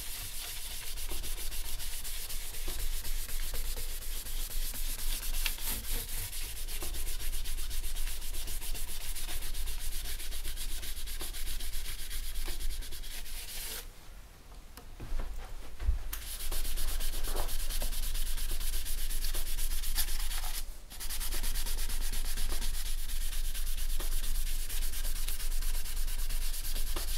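A Hutchins AL-1 is polished by hand, producing a continuous close rubbing and scrubbing sound in steady strokes, broken by a short pause in the middle and a brief gap near the end, with no talking.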